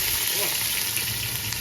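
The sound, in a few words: onions frying in hot oil in a pot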